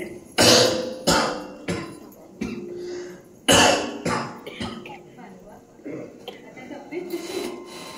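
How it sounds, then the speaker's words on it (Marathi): A person coughs repeatedly in a historical Marathi stage play, several harsh, close coughs in an uneven series, tapering into softer rasping throat sounds. "पण खोकला पाठ सोडत नाही आमची."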